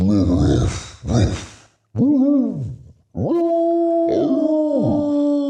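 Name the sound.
person imitating a dog howling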